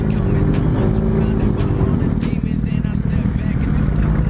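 A local biker's motorcycle engine in the GTA 5 video game, a loud continuous drone with shifting pitch and revving throughout, with talk mixed in.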